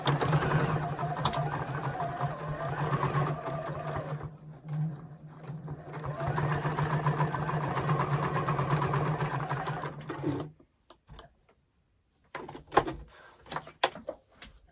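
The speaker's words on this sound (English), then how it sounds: "Now I'm going to put this one down, matching the wrong sides, sewing it 1/4 of an inch." A sewing machine stitches quilt pieces at a quarter-inch seam, running in a steady close mechanical whir for about ten seconds, then stops, followed by a few soft clicks and handling noises.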